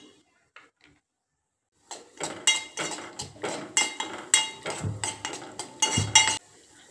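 Dry fruits and almond pieces sautéed in a pan for sabudana kheer, stirred with a utensil that clatters and scrapes against the metal in a quick, loud, close run of knocks after a quiet opening.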